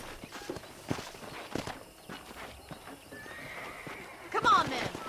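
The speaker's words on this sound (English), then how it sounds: "I picked out a fine horse for you." Horse hooves clip-clop at a walk and a horse whinnies near the end in Red Dead Redemption on Xbox Series S, with game ambience and a voice talking over it.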